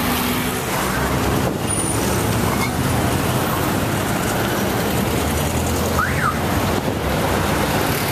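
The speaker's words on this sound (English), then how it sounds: "Get around this traffic." Steady, loud road traffic noise fills a busy street in Acapulco, Mexico, with engines of cars, trucks and buses rumbling continuously throughout, a brief whistle-like tone rising once in the mix and no clear talk.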